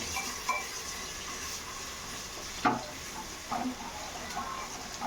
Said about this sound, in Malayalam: സോ അത് മീഡിയം ടു ഹൈ ഫ്ലെയിമിൽ വെച്ചിട്ട് നമുക്കൊരു ഗോൾഡൻ കളർ ആവുന്ന വരെ ഒന്ന് റോസ്റ്റ് ചെയ്തെടുക്കാം